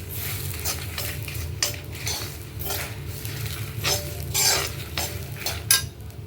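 Ginger, curry leaves and asafoetida stirred in a hot frying pan, a spoon scraping steadily through the sizzling oil with soft clinks against the metal, close and continuous with no voices.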